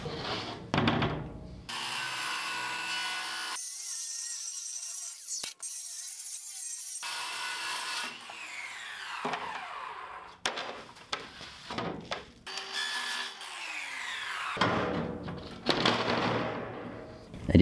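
Aluminum composite material floor panel for a camper being cut, with bursts of harsh rasping and grinding separated by quieter gaps and handling noises, close by.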